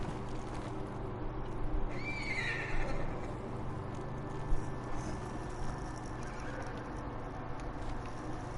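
A horse in the video game Ghost of Tsushima lets out a single short, faint whinny, followed by scattered soft hoof clops over a low, steady game ambience.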